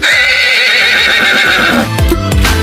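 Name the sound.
horse neighing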